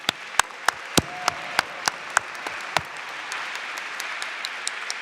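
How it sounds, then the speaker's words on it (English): Audience applause for performers at a Lunar New Year event with lion dancers, opening with a few loud, sharp, separate claps that thin into light, sparse clapping from a smallish crowd. "I want everyone to give a big round of applause to all of our performers"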